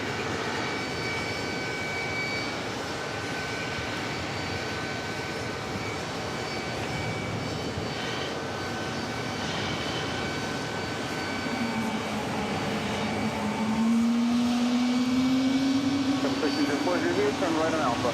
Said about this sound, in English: Have another Delta A330 about to arrive on 22 left.